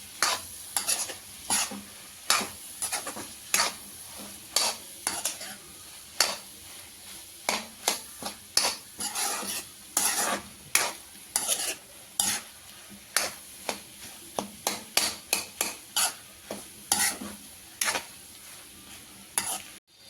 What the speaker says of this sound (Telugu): సిమ్లో పెట్టేసుకొని అన్నీ మిక్స్ చేసేసుకోండి